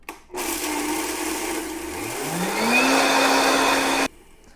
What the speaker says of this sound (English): I am going to put this on my blender and blend it up and make some oat